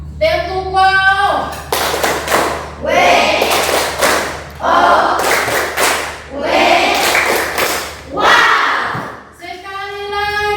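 A classroom of pupils performs a chanted clapping routine, loud group claps and thumps in rhythmic bursts between shouted call-and-response chanting, separated by short pauses, with a teacher's voice in between.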